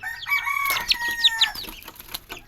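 Young chicks and hens on a small farm make a few high chirps and short clucking calls in quick succession, close by and fairly loud, with no talking.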